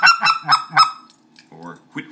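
A speck (white-fronted) goose call sounds a loud, rapid series of four sharp honking clucks, then pauses before a few softer, lower clucks follow.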